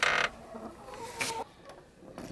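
A few chickens cluck in short bursts in a rural yard: a loud call at the start, then fainter scattered clucks with quieter pauses between them.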